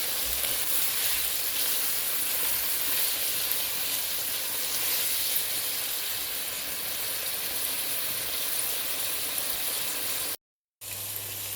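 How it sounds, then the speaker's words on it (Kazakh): Bell pepper and tomato paste fry in a pan with a steady, continuous sizzle that holds loud and even throughout, cutting out briefly near the end. "қуырып аламыз"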